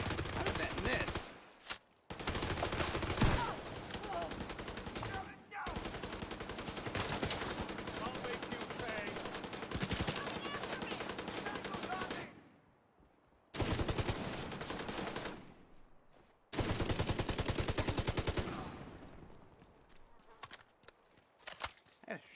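Shotgun blasts in The Division 2, firing in long bursts of rapid, loud, close shots with brief pauses between volleys and a few short gaps of near silence.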